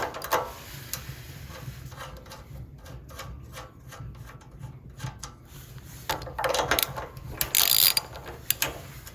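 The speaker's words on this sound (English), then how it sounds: "we can go ahead and remove these two bolts to get the carburetor out" A hand ratchet backs out the 10mm bolts holding a snow blower carburetor, rapid clicking bursts close up with brief pauses, growing louder and busier toward the end.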